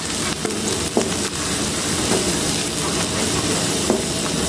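Tomatoes and spices sizzle and fry in a pan for a Bengali fish curry, a steady close crackle with occasional stirring scrapes, no talk.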